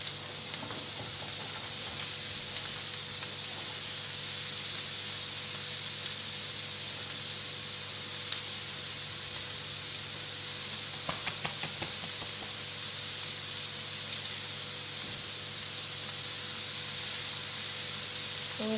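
Cauliflower rice fries in hot oil with garlic and chili, a continuous bright sizzle with occasional stirring scrapes and clicks, steady and close throughout.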